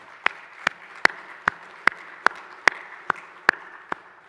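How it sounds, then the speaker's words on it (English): At a hardwood lumber association's conference general session, about ten sharp, evenly spaced claps ring out in a quiet room, a single slow rhythm rather than a full crowd. "so if we could give them a round of applause"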